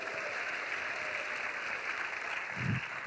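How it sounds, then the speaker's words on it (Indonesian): Church congregation applauding during a sermon, a continuous broad crackle of many hands clapping at even intensity, with a brief low thump near the end. "Tepuk tangan sekali lagi."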